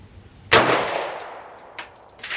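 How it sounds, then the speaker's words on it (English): A single loud pistol shot fired at an outdoor range, sharp near crack with a long ringing tail, followed by faint distant shots. "this is one of your first times ever shooting a pistol"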